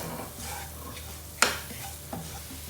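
Finely minced ginger and garlic sauté in a pan with a soft sizzle, broken by one sharp clatter of stirring and a fainter knock after it.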